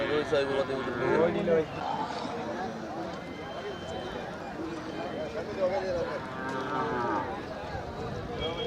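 Cattle mooing at the Chettithangal cattle market: several loud, drawn-out moos rise over steady crowd chatter and nearby talking.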